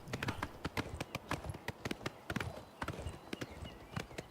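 Rapid, close hoofbeats from a galloping bay horse in the video game Oblivion Remastered, a dense, continuous clip-clop of sharp strikes in quick succession with no voices.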